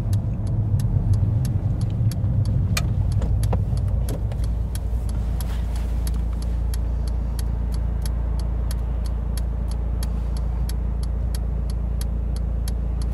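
A Mercedes A-Class car drives along with a steady low engine and road rumble inside the cabin, while a regular ticking, likely the turn signal, clicks throughout.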